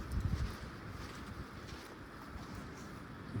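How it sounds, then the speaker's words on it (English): Wind blowing outdoors in a natural setting, a steady rushing, buffeting roar with low gusty rumble against the microphone, continuous throughout with no talking. "noises of the wind. I hope you guys can hear that."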